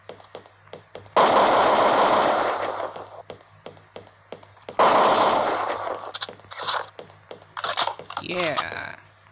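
Gunfire crackles in the shooter video game Crisis Action, with two long sustained bursts and scattered single shots in between, loud and close, with a voice speaking briefly toward the end.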